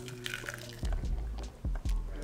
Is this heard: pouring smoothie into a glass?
yes